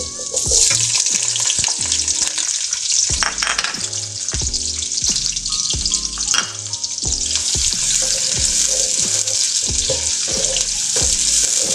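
Onions frying for mixed vegetable rice, a loud continuous sizzle with steady rhythmic scraping and stirring of a spoon against the pan throughout.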